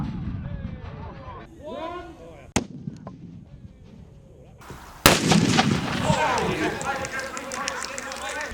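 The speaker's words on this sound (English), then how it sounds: "Huge shell being fired out of our Mobat." A Mobat howitzer at a military vehicle show fires a huge artillery shell in one loud, sharp boom that cuts in mid-clip and rolls on with a long echoing rumble. People talk before the shot.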